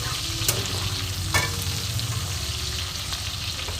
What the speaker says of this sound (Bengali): দেখো বন্ধু রসুন আর লঙ্কা ভাজা হয়ে গেছে